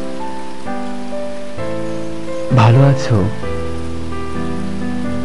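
Rain falls with a steady broadband hiss behind a poetry recitation, under sustained musical tones, with a voice briefly speaking over it midway.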